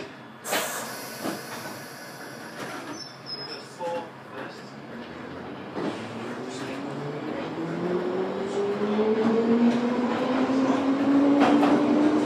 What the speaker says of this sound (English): This train will be calling all stations to Heathrow